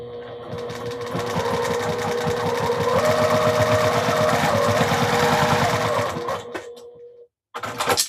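Sewing machine stitching a quarter-inch seam, a steady close mechanical whir with a fast repetitive needle beat running for several seconds before stopping, followed by a brief handling clatter.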